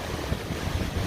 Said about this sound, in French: le vent s'est levé, hein?